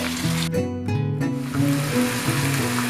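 Marinated chicken goes into a hot pan with onions and spices and sizzles loudly, a steady close frying hiss with brief stirring surges, under faint background music.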